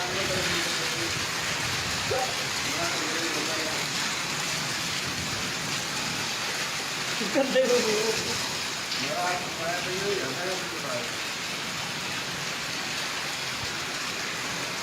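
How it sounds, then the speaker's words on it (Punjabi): Very heavy rain pours down steadily, a dense continuous roar of rain on surfaces, with a brief voice and a few louder bumps partway through. "ਹਵਾ ਖੜ ਗਈ ਮੀਂਹ ਬਹੁਤ ਤੇਜ਼ ਹੋ ਗਿਆ"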